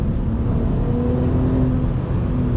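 Volkswagen Golf Mk4 R32 with a Bilstein suspension kit driving, steady engine and road drone with a low humming tone, constant and fairly loud from inside the car, no talk.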